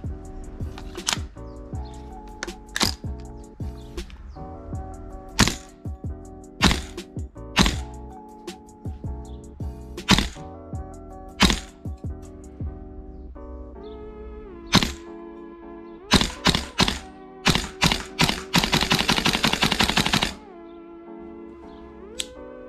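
Gas blowback airsoft guns firing BBs, with sharp cracking shots at irregular intervals and a rapid burst of closely spaced shots near the end, loud and close over a steady background tone.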